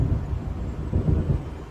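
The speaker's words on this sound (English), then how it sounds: "It seems there's a storm Ui. coming." Low, rolling rumbles of thunder from an approaching storm in the video game Alan Wake, a steady deep roar that swells twice without any voices.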